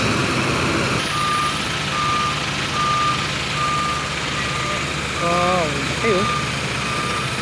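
Slow escorted trucks carrying windmill parts through a low-clearance town road in Laguna, with a steady engine rumble, repeating reversing beeps and a wavering siren-like tone, while a person briefly exclaims.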